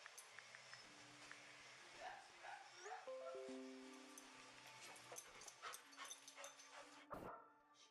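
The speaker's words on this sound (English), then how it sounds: "The guy's dog is going crazy." A neighbor's dog barks excitedly, mixing sharp yips, quick barks and high whimpering whines in irregular bursts over a steady background hum, ending with one louder sudden sound.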